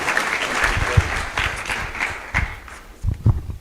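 An audience at a church elevation service applauds the team, a short burst of crowd clapping that thins out toward the end with no voices heard.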